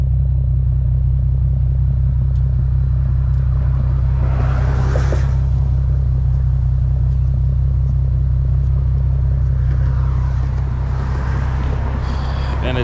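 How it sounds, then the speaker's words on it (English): Infiniti G37 V6 exhaust idling with the catalytic converters removed, a loud steady low rumble held close throughout, with a brief rise in intensity midway and again near the end. "I'm gonna show y'all what the car sound like right now, which y'all probably already know. This is without the cats."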